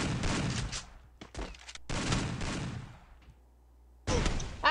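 Rapid bursts of gunfire in a Free Fire match, loud and close, arriving in several clustered volleys separated by short gaps, with a final burst at the end.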